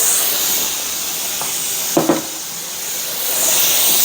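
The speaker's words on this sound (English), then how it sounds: "So look at that steam. Can you see it? I mean, it's just shooting up." Steam hisses steadily from a pressure canner processing raw meat, a loud continuous rush that dips slightly midway, with a couple of faint clicks or taps.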